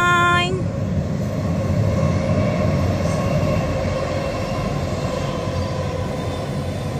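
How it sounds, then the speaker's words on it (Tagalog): A train passes in Lauterbrunnen in the Swiss Alps, giving a steady, loud rumble and rolling wheel noise that holds throughout, with a brief tonal squeal at the start. "Ayan ang train."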